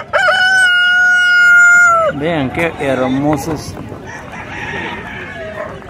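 A rooster crows loudly for about two seconds at a livestock market with Brahman roosters, then people talk while other birds cluck and crow faintly in the background.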